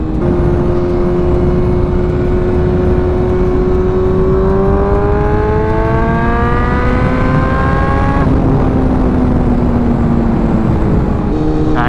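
A BMW M1000R superbike engine revs hard and pulls through the gears, its rising tone climbing steadily before a shift drops the pitch, loud and continuous over wind and road noise.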